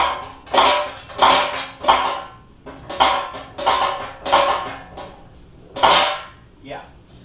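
A steel vehicle bumper is flipped and shifted on a hard surface, giving several loud metallic clanks and scrapes in irregular bursts, close by, with no talking.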